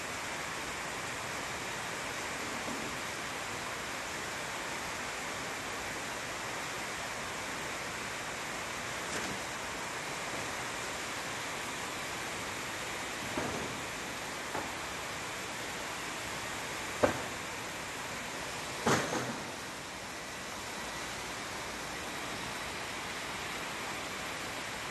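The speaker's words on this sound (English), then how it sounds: "I'm a bit disturbed by the rain, as the condition is very dark" Steady rain falls on a renovation site under dark skies, making a dense, even hiss throughout, with a few faint knocks and taps surfacing briefly near the end.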